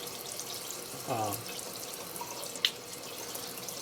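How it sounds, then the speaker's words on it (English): Water from a tap briefly runs over a strainer as bee mites are rinsed off during mite sampling, a short splash followed by a single drip or tap, faint and close, with no talking. "You just rinse them off."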